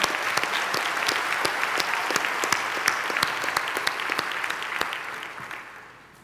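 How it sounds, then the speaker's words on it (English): Audience at a university graduation ceremony in Gqeberha applauds the choir after its songs: sustained crowd clapping with sharp individual claps standing out, fading away at the end. "join me in applauding our choir for those lovely songs"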